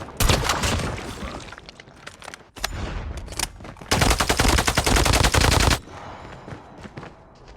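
Gunfire in a shooting video game, loud bursts of rapid automatic shots in several long strings separated by quieter gaps, up close and with no talking over it.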